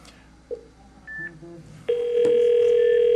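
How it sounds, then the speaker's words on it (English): A desk telephone line gives a few short tones, then a steady loud outside dial tone that holds to the end, close and clear without speech; no distinct cell phone ring stands out. "Cell phone is ringing."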